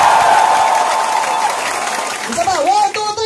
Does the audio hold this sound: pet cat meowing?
no